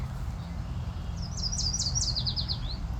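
A small bird sings a quick descending trill of rapid chirps outdoors, fairly clear over a steady low rumble of background noise.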